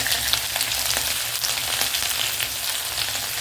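Ginger and green chili sizzling steadily in hot oil for potato bonda, a continuous close crackle with no talking.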